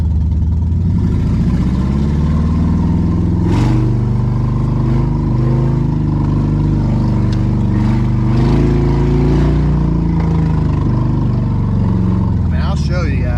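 A Ford Expedition with its top cut off idles and revs in four-wheel drive low, a loud, steady engine drone close by with someone talking over it.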